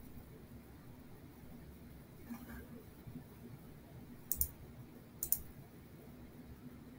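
Two quick mouse clicks while saving in ZBrush, faint and close over a quiet low hum, spaced about a second apart.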